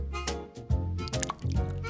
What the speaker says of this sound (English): And pour fresh milk.